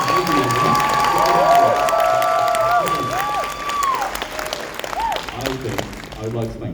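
A convention panel audience bursts into loud applause and cheering, a sustained roar of clapping that slowly fades while a voice rises over it.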